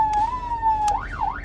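Loud, close police siren mounted on a Renault Triber: a held electronic tone breaks into a rapid rising-and-falling wail, with a couple of short clicks along the way.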